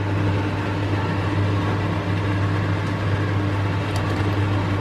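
Eggs simmering in a pot of water for egg paste give a steady, close rushing hiss with a low hum beneath, unbroken and level throughout with no talk.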